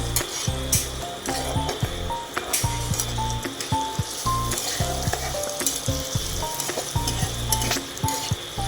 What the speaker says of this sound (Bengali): হলুদ গুঁড়ো দেওয়ার পর এটাকে ভালো করে নেড়ে নিচ্ছি